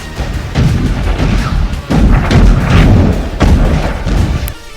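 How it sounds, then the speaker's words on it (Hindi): Artillery shelling in Donetsk, Ukraine, heard as loud, heavy booms and rumbling crashes in several bursts, with deep sustained thunder between impacts and no voices. "तोपों से दनादन दागे जा रहे गोलों से पूरे इलाके में भारी तबाही हो रही है।"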